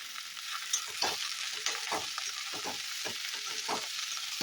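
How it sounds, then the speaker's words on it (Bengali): Chili soya chunks fried and stirred in a hot pan on a home stove: a constant crackling sizzle broken by repeated scraping strokes of a spoon, close and fairly loud, with no talk. "এবার আমি দিয়ে দিলাম এর মধ্যে সমস্তটা এর সঙ্গে ভালো করে মিশিয়ে নেবো।"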